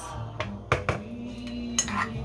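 Beef added to a simmering pot of Guyanese pepperpot, heard as sharp metallic clanks and clinks of a utensil against the pot in a few distinct hits, with a faint low hum beneath.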